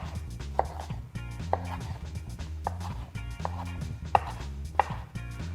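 A knife chops artichokes on a cutting board in a home kitchen, a steady series of sharp, close knocks roughly every half second to second, moderately loud with faint background hum and no talk.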